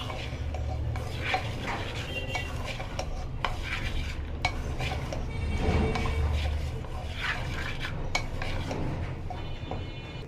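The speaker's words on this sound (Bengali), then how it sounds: "ভালোভাবে নেড়ে নেব।" Spices with a little oil are stirred in a pan while cooking fish-head curry with chickpea lentils, a close spatula scraping and clinking against metal in an irregular rhythm over a faint sizzle.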